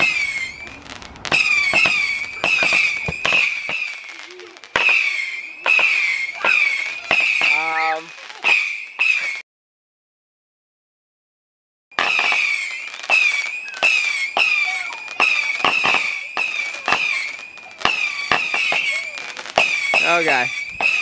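A 100-shot fireworks barrage set off at a DIY backyard fireworks show fires in a rapid string of sharp, close cracks and pops, with a short lull midway before the volley resumes.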